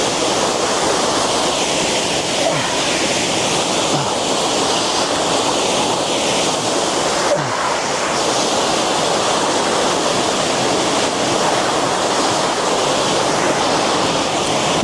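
A hidden waterfall roars steadily with a dense, continuous rush of falling water, loud and close, with no voices over it.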